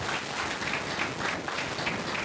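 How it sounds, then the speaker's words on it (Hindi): An audience at a Bible college graduation claps in a sustained, dense round of applause, steady and fairly loud throughout with no speech over it. "आप सबकी भरपूर तालियों में sister Sylvia Christina, daughter of बूटा म"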